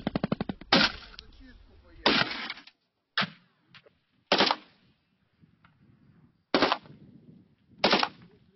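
Bursts of automatic fire from Kalashnikov rifles and a heavy machine gun during Ukrainian armed forces shooting practice, six or seven short loud volleys separated by brief pauses with faint ringing in between.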